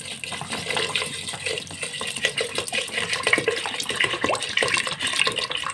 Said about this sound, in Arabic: نديرو قياس ديال الماء باش يطيب